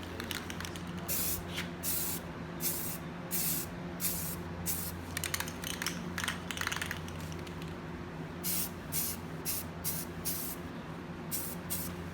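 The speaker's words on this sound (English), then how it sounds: "And if it starts to like slow down while you're spraying," Short bursts of a spray paint can hiss onto a car rim in a repeating on-off rhythm, close and crisp, over a steady low hum.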